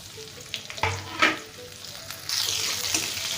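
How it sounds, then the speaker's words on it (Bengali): Chopped onions hitting hot oil with tempering spices in a kadai for an aloo potol dum, a loud sizzle bursting up and settling into steady frying hiss with a few stirring scrapes. "ফোড়নের তেলে দিয়ে দিলাম পেঁয়াজ কুচিগুলো।"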